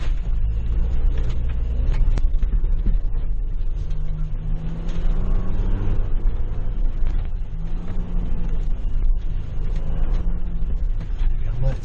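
A 2021 Ford Bronco engine drones low and steady while driving off-road in Moab, with rumbling throttle swells and mechanical rattles, close and continuous beneath someone talking.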